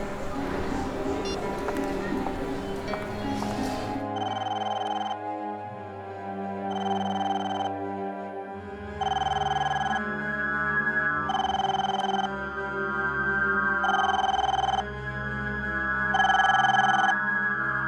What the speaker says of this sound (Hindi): ये अमित फोन क्यों नहीं उठा रहा है?